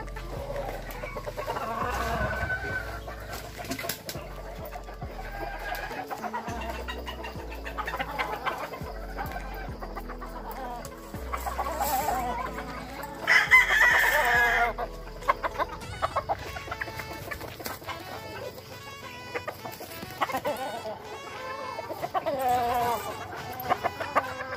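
Yellow Leg Hatch gamefowl chickens in a breeding setup, with steady clucking and several crows layered over one another, fairly close, and other farm noise beneath.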